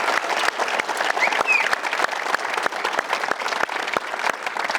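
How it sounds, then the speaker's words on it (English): Audience at an indoor basketball court breaks into steady applause for the athletes, a dense wash of many hands clapping with crisp individual claps standing out, continuous and fairly loud throughout. "Can I get everyone to put their hands together and thank the athletes for tonight?"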